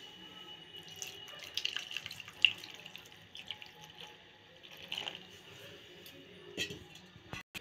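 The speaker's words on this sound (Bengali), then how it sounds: "প্রথমে অল্প করে জল দিলাম," Water trickles and splashes in small pours into ground sun-dried rice batter, with faint drips and soft liquid sounds at low level, a few louder splashes standing out, and no talk.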